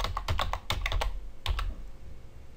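Typing on a computer keyboard: a quick burst of clicky keystrokes in irregular clusters, close and fairly quiet, with no voices over it.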